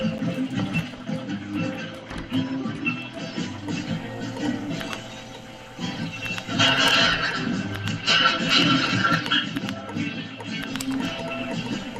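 Horses whinny and neigh outdoors on a bitterly cold morning, with long drawn-out calls rising over a steady, busy background of mechanical noise at moderate volume.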